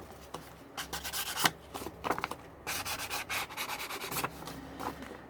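Ink applied by rubbing along the edge of coffee-dyed paper for a triple hinged journal tag, heard as close, repeated scratchy rubbing strokes in uneven bursts, with a faint fan hum behind.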